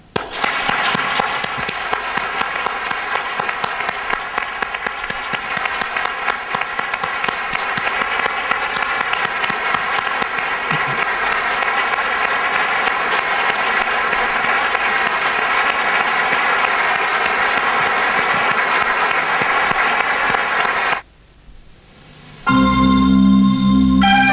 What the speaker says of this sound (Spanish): Dediquémosle nosotros un aplauso caluroso a este gran hombre y gran amigo que se nos fue